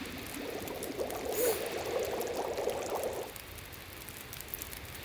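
Water boils in a pot in the survival game The Long Dark, a steady bubbling hiss that runs for about three seconds and then drops to a quieter background.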